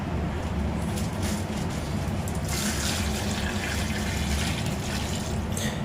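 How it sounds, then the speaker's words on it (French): Chicken stock from a dissolved cube poured into a pan of sautéing sausage and tomatoes for rougail saucisse, a steady close liquid pour over a continuous low cooking rumble, growing brighter midway. "je mets un bouillon de volaille. Je couvre bien avec un bouillon de volaille"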